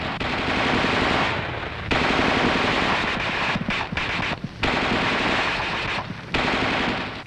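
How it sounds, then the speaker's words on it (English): Coaxial machine gun on an M551 airborne assault vehicle firing continuous bursts in a training exercise, loud and close, with brief pauses between long rattling strings of rounds. "The gunner continues to fire in 20 to 25 round bursts until he receives the command, Target, cease fire"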